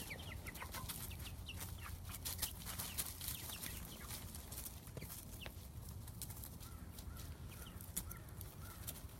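Backyard chickens cluck in short scattered calls against a steady outdoor background hiss, the hens fairly near and moderate in level throughout.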